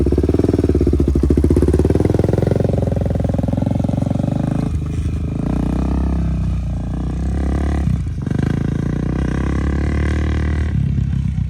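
A Honda 400EX ATV engine revs loud and close, a steady raspy roar that dips and surges as the rider works the clutch and shifts, with brief drops in pitch between pulls.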